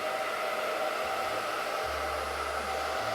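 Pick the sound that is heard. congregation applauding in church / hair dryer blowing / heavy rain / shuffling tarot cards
hair dryer blowing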